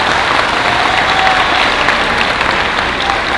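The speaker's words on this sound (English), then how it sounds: "let's give them another round of applause" Loud, sustained applause from a large audience, steady and dense throughout with no pauses.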